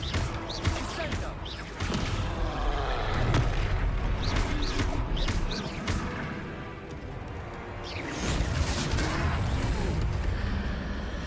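Fiery Incendio spell blasts in the Hogwarts Legacy video game during a troll fight, loud and dense bursts over a rumbling low-end game soundtrack with a brief lull midway, a voice speaking briefly among the effects.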